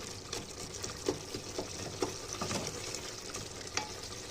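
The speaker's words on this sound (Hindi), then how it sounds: "मिक्स करके थोड़ा सा और फ्राई कर लेंगे" Mixed ingredients for palak paneer frying and being stirred in a pan, a steady close sizzle with regular scraping strokes of the spoon, no voices.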